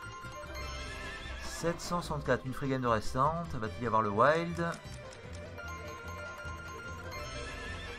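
Horse neigh sound effect from the Lucky Horse slot machine, a long wavering whinny rising and falling through the middle, surrounded by someone talking.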